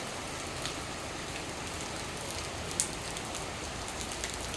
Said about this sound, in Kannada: ಮಳೆ ಬರ್ತಾನೆ ಇದೆ